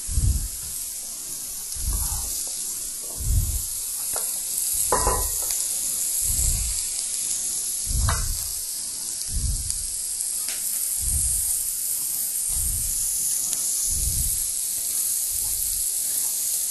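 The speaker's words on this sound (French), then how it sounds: "vous mettez vos bardes dans lesquelles vous avez vos foies à griller" Chicken livers wrapped in bacon grilling: a steady, bright sizzle hangs over the whole stretch, with regular low thumps and occasional spits and crackles repeating roughly every second and a half, close by and with no talk.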